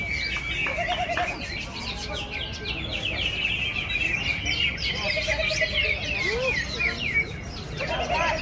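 Cucak ijo (green leafbird) singing a canary-like song of rapid chirps, trills and sweeping whistles, close and fairly loud, running continuously with faint voices in the background.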